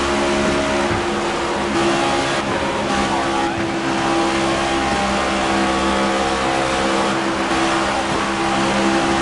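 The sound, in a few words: race cars accelerating in a NASCAR racing video game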